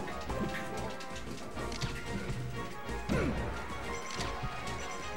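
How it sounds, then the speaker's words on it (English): A forward smash attack lands in Super Smash Bros, a loud thwacking crash burst amid a busy mix of game effects and music during a competitive match, with a second impact following about a second later. "Knocked down into forward smash."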